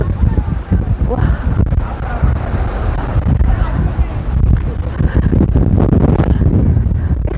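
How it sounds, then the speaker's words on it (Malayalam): Strong wind in Madurai roars loudly and continuously against the microphone in a dense, buffeting rumble that never lets up, with voices faintly buried beneath it. "ഭയങ്കര കാറ്റാ, ഭയങ്കര കാറ്റ്."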